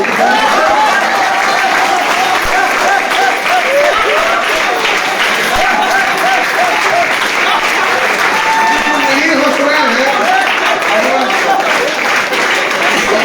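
An audience at a direct-selling motivational event claps continuously, loud, dense and close, with voices mixed into the applause.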